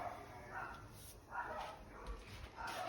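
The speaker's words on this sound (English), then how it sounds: "Kobe and Biscuit barking away." Two dogs, Kobe and Biscuit, bark in short faint bursts in the background of a kitchen, several yips spaced apart while a person talks.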